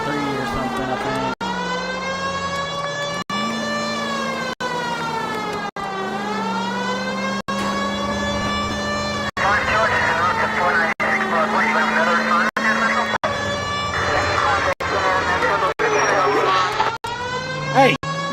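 A police car siren in the video game LA Noire wails continuously in rising and falling sweeps, loud and close, with a person talking over it.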